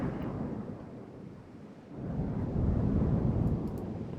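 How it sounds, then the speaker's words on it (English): Thunder from a storm in the naval game Ultimate Admiral Dreadnoughts rolls as a steady, deep rumble that swells louder halfway through, heard alone without talk. "apparently it's a storm, because I can hear the thunder."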